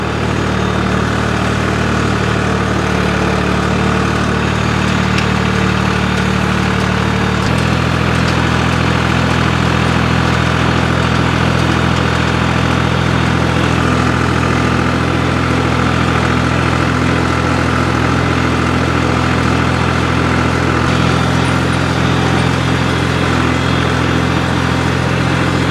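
Tractor engine running steadily while mowing hay with cheap secondhand equipment, a loud constant low drone whose pitch shifts slightly partway through as the load changes, with no talking.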